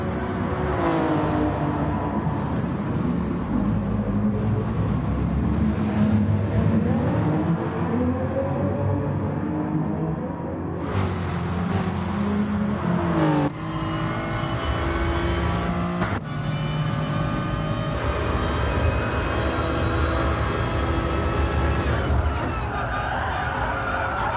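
Race car engine on a GR3 car from an in-car camera during a lap at a winter series race, droning loud and steady throughout with shifting pitch and a few sharp revving changes, no talk.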